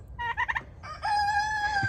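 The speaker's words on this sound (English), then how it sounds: "So we definitely have a Lakeshore Egger rooster right there." A Lakeshore Egger rooster crows twice on a farm, the first call broken into short choppy bursts, the second a long drawn-out tonal cry, close and loud over low background rumble.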